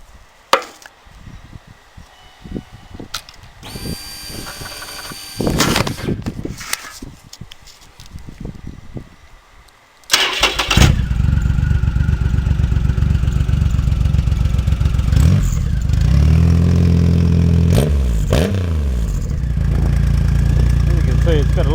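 A Triumph Rocket III motorcycle with a new Viking 3-in-1 exhaust cranks and starts, then settles into a loud, close, rumbling idle with a couple of rising revs. Clanks and handling noises come before it, and a voice is heard briefly.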